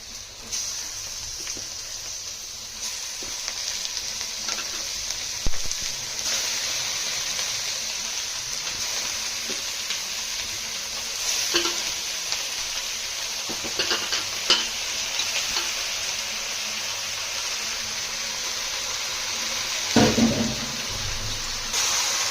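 Chicken pieces added to frying onions and stirred in a pan for chicken curry, a steady close sizzle and hiss with occasional scrapes and clinks of the spoon, plus a louder stirring burst near the end.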